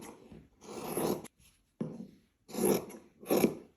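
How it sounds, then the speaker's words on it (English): Scissors cutting fabric pieces for an Easter bunny bag: several close, crisp rasping cuts in short bursts separated by brief pauses, no talking. "I'm going to cut the 2 pieces"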